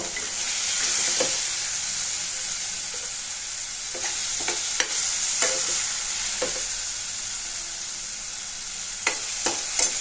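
Tomatoes, onions and curry leaves sauté in a pan with a constant soft sizzle, punctuated by several sharp spatula taps and stirring scrapes against the pan.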